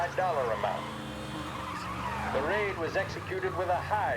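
A car in the Mafia Definitive Edition video game skids with loud, wavering tire squeals over a steady engine drone, while someone talks throughout.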